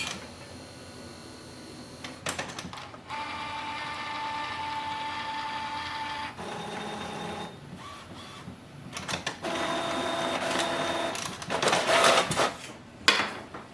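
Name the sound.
Epson XP7100 printer printhead moving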